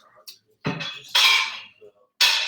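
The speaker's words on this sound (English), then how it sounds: "helping me put the dishes up" Dishes being put away, with a few sharp clinks and clatters in separate bursts and short pauses between them, fairly close.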